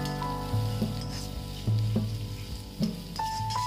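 Onions sizzle steadily in hot oil, broken by a few sharp clinks of a utensil against the pan, with a faint electrical hum underneath.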